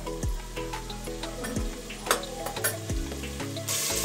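Potato curry for a fasting-day meal sizzles in oil over a gas flame, a close, busy hiss with ticks and stirring clatter, a few sharp clicks, and no talking.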